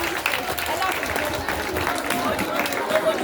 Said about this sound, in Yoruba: Ẹ bá mi pàtẹ́wọ́ fún màmá wa